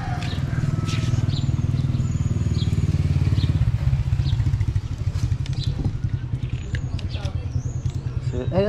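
A motorcycle idles and passes on a town street in Siquijor, its engine a loud, steady near putter that fades slightly as it moves off, while people talk faintly.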